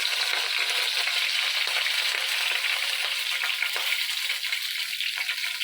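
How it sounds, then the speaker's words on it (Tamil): Seer fish fries in a pan with curry leaves, a steady close sizzle and crackle of hot oil running throughout without talk. "அது வரைக்கும் இப்போ மீன் வறுத்துக்கலாம்"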